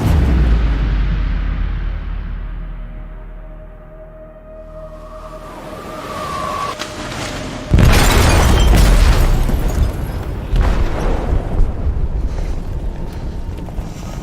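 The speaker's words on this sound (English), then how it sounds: "They detonated an explosive in the hold." An explosive detonates in a ship's hold in Detroit: Become Human: a deep rumbling build, then a sudden loud, heavy boom that rolls on as a sustained roar of debris and rumble.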